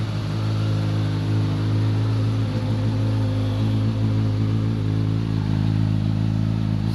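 A Suzuki GSX-S 1000F motorcycle engine with an Akrapovic exhaust idles steadily nearby in neutral, a deep even throb with a slightly uneven, lumpy rhythm, no talking.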